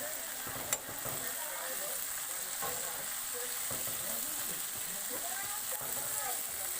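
Shrimp curry with white mustard and tomato sizzles steadily in a pan while being stirred, a soft continuous frying hiss with faint scraping throughout.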